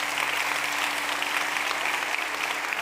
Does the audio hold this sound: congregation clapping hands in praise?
yes